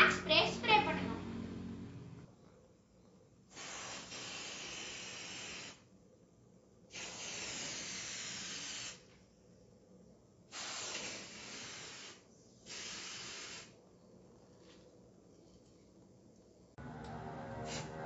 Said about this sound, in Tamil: ஃபர்ஸ்ட் ஸ்டெப் என்னன்னா இந்த ஸ்டெம்க்கு நம்ம Black spray ஸ்ப்ரே பண்ணனும்